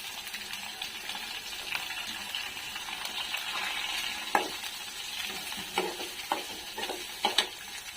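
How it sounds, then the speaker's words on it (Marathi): Onions sautéing in a pan for a black field bean curry, a steady close sizzle with a few sharp scrapes and clinks of stirring, no voices. "आता कांदा टाकून घ्यायचा आपल्याला कांदा परतून घ्यायचा चांगला"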